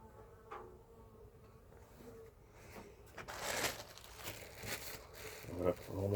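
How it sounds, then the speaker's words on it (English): Honey bees buzzing around an open backyard hive during an inspection, a faint, soft hum with crinkling handling noises and scattered close taps. "Make sure I get all the bees, as many as possible."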